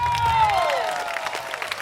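An audience at a string band show applauds and cheers for the banjo player, a broad wash of clapping heard at moderate distance while a sustained tone fades out.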